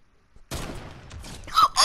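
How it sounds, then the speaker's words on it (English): Rapid burst of gunfire in the video game Fortnite, loud and sharp after a short quiet lead-in, with a voice briefly under it. "I'm gonna snipe this kid on midair."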